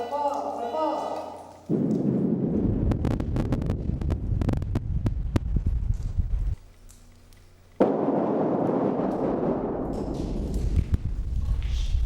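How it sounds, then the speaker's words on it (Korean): A heavy mine blasting explosion booms through a mountain valley at a mining site, with a loud rumbling roar that rolls on for several seconds, dips briefly, then swells again with wind-like noise. "예미산 골짜기를 울리는 묵직한 폭발음"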